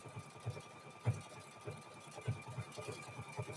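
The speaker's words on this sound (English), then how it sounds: "that seam is going to sew right down the edge of your fabric" A sewing machine runs in short, faint bursts while stitching binding onto a denim quilt, with soft rhythmic thumps and a low mechanical hum under quiet surroundings.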